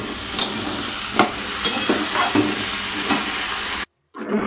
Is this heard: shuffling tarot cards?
no